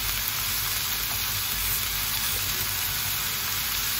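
Food sizzles and fries steadily in a pan during lunchbox cooking, a constant close crackling hiss with no pauses and no talk over it.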